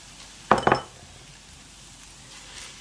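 Tofu scramble with spice slurry being stirred in a pan, two quick metallic clinks of a utensil against the pan over a faint, steady background sizzle.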